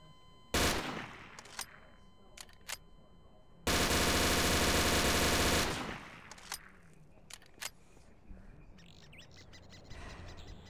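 A sustained burst of machine gun fire rips out loud and dense for about two seconds, amid scattered sharp single shots and birdsong in the background.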